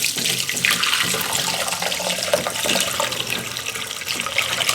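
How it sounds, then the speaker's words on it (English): Strained cantaloupe melon mash releases liquid that pours through in a loud, steady, close rush of splashing flow without pause. "we're going to strain the fruit out. You know, the melon out."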